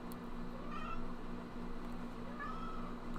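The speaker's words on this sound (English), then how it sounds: "We understand you're a cat and you like fish." A cat named Chesterfield meows a couple of times indoors, soft mid-pitched calls over a steady low background hum, fairly quiet and with no talking.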